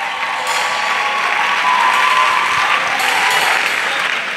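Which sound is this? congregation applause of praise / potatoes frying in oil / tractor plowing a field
congregation applause of praise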